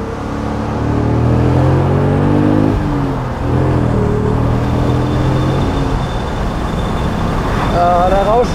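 A 2003 BMW Z8 roadster's V8 engine accelerates, its loud rising drone shifting pitch as it pulls away, and a voice comments over it.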